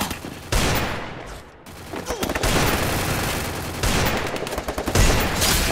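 Sustained automatic gunfire in the mobile battle-royale game Free Fire, dense bursts of rapid shots rattling nearly nonstop, with brief lulls and loud cracks throughout.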